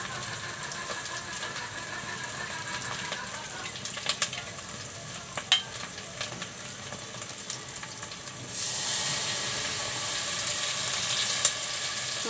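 Spices frying with dried fish for a bean and tomato curry, a continuous soft sizzle with scattered clinks and stirring, growing brighter and louder partway through.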